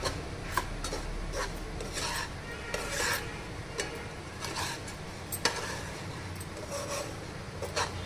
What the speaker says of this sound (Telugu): సిరాపులు చేసుకున్నా సరే రవ్వను కలుపుతూనే ఉండాలి